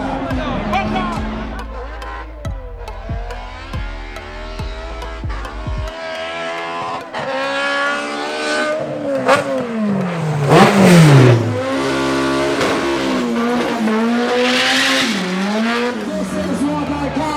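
Drag racing cars at a drag rivals elimination event roaring off the line and accelerating hard down the strip, loud rising engine howls with shifts, tire noise and an announcer talking over the action.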